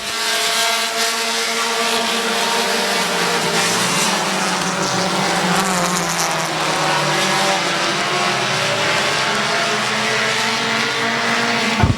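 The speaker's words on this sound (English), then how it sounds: "Now here comes the 5 of Justin Courtney" Race cars roar around Midvale Speedway in a 2020 race, a loud, continuous blend of engines whose pitch rises and falls as cars pass, with no pause throughout.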